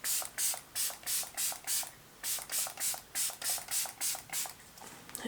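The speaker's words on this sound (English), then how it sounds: "I'm just going to do a few sprays." MCO Beauty setting spray hisses in about a dozen quick, close bursts over a face of makeup, each pump a short airy spritz in a steady rhythm with brief pauses.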